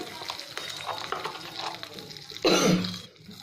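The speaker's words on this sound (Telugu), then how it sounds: "వేసేసి చెంచాతో బాగా కలుపుకుందాం" A spoon stirs vada batter in a bowl, with soft, repeated scraping and wet mixing strokes at close range, then a brief louder burst of sizzling or splashing near the end.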